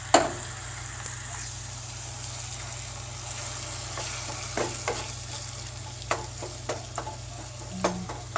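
Ground beef mixed with canned diced tomatoes for picadillo is stirred in a pan, a steady soft sizzle broken by scattered spoon scrapes and clicks against the pan, with no talking.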